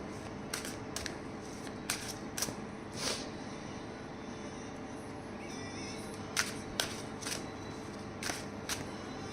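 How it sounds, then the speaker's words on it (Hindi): Tarot cards being shuffled and drawn for a reading, heard as a series of crisp, brief riffling flicks and card snaps spaced irregularly over a faint steady background hiss, fairly close and quiet. "यहाँ से एक कार्ड निकालते हैं"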